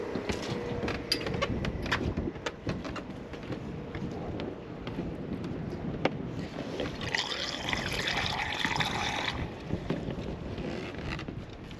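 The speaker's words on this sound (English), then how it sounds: "That's going to suck the water out of this barrel through the filter, running up this hose." Water drawn by a pump from a barrel through a filter and up a hose into a boat's tank, a steady gurgling trickle with continuous liquid noise and a brighter hissing flow near the end, no speech.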